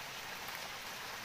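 Rain falls steadily outdoors during eel fishing, a dense, even hiss with no breaks, fairly soft and with no voices over it.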